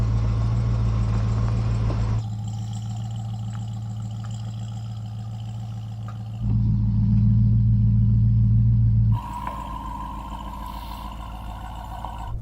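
Hennessey Mammoth pickup truck driving off-road, its engine giving a deep, steady rumble that swells and eases in distinct stretches as the load changes, with no talking.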